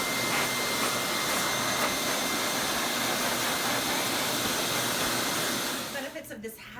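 A high-speed pet dryer blasts loose coat out of a Samoyed, giving a loud, steady roaring airflow that runs unbroken for about six seconds before cutting back and fluctuating at the end.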